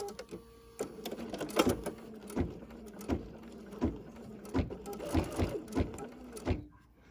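A home embroidery machine stitches a mini notebook cover in the hoop, its needle tapping in a steady rapid rhythm with sharp clicks and brief pauses, close and moderately loud, then stopping near the end.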